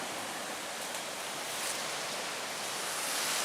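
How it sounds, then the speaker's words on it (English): Rough Lake Superior waves roll in and break against the shore in a continuous loud wash of surf with no break in the roar, heard alone without talk. "Enjoying the nice sounds of Lake Superior's waves coming in."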